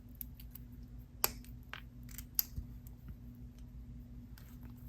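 Small scissors snip off the excess tail of bead wire while making a layered necklace, two crisp sharp snips standing out above faint clicks and handling of beads, close and quiet, no talk.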